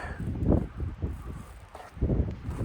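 Cold winter wind outdoors at about minus 33, gusting and rustling near the microphone in uneven swells, with no talk.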